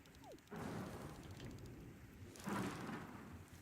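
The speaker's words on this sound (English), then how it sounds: "Man, I really hate all this thunder. It's so loud." Thunder and rain in a fishing video game: two deep rolling rumbles, each swelling then fading over steady rain noise, heavy and close-sounding, with no one talking.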